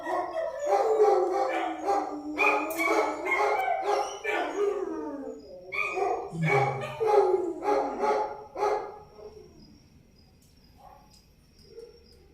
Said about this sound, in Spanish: aquí sí hay unos vecinos con perros, ¿no?